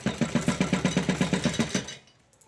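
A sewing machine stitches a blouse in a fast, even run of about a dozen mechanical pulses. It runs close and steady for roughly two seconds, then stops and leaves near silence.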